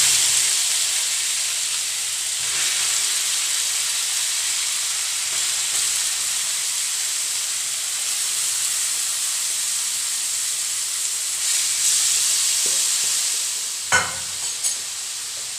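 Grated carrot frying in ghee over a low flame for carrot halwa gives a steady, even sizzle and hiss throughout, with a brief utensil clatter near the end and no talking.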